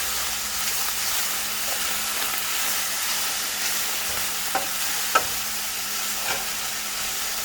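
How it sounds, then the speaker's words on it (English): Sliced peppers stirred into a covered pan of canned corned beef and cabbage on the stove, giving a steady, close sizzle and hiss with a few sharp clicks of a utensil against the pan, with no talking. "we are just going to mix those right in and let those get cooking as well"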